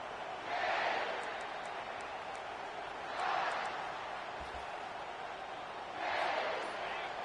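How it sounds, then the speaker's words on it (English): Stadium crowd at a college football game between South Carolina and Oklahoma, a broad roaring wash that swells in three waves and fades between them, heard from a distance. "This crowd bringing an ear-splitting welcome to their visitors."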